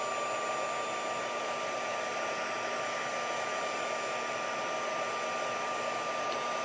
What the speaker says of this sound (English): I am going to have to run my heat tool just for a little bit